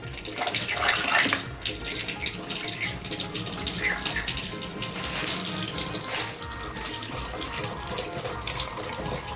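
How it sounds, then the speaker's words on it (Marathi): Fresh rohu fish being rinsed under a running tap, a steady close gush of water splashing over the fish and into a sink for the whole stretch, with no talk. "तर मी आता याला स्वच्छ धुवून घेते या मच्छीला."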